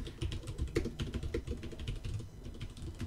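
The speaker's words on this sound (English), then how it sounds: "I love this new keyboard. It's like clackety clack. Clackety clack." A new mechanical computer keyboard clacks under fast, close typing, a dense run of sharp key strikes with a few louder hits, continuing for about three seconds without speech.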